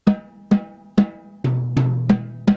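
Seven evenly spaced tom drum hits ring out with the snare wires off, each a clean resonant thump; the later strikes sound slightly lower and fuller.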